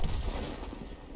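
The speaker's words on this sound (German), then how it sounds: "Bin auch froh, dass die Arti getroffen hat." An artillery shell firing in the World of Tanks tank battle game, a single deep, booming blast that fades quickly.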